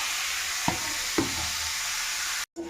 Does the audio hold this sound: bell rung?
no